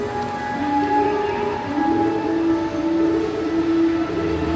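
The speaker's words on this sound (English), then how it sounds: "This has to be one of the loudest train stations that I've ever been to in my life." The Argo Wilis train stands at a loud railway station in Java, Indonesia, giving a continuous close rumble with steady tonal whines that shift pitch partway through, with no voices.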